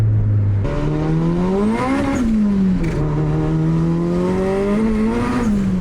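A 400-horsepower big-turbo Honda Civic accelerates hard, a loud, continuous engine note climbing and dipping through gear changes with strong harmonics, close and steady for several seconds with no voices.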